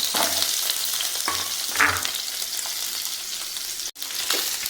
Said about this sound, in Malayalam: വെളിച്ചെണ്ണ ചൂടായിട്ടുണ്ട് നമുക്കിതിലേക്ക് തേങ്ങാക്കൊത്തും പച്ചക്കറികളും ഒക്കെ നമുക്ക് ചേർത്ത് കൊടുക്കാം